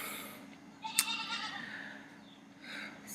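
A hungry goat bleats once, fairly faint and somewhat distant, in a short wavering cry over a quiet indoor background, with a softer sound near the end.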